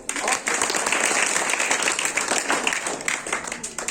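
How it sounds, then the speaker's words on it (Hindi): A school audience gives loud, sustained applause to welcome a co-director. The dense clapping runs steadily through the whole stretch, with some voices mixed in. "मैं इनको चाहूंगा कि जोरदार ताली से स्वागत हो।"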